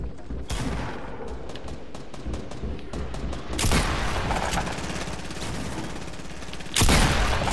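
Gunfire in the video game Fortnite, with rapid bursts of close, loud shots that break into dense volleys and heavy blasts partway through and near the end.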